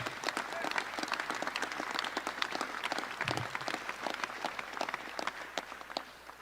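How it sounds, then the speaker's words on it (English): A round of applause from an audience at an Orlando Police Department neighborhood watch crime prevention event, dense continuous clapping close by with faint voices mixed in. "Give them a round of applause."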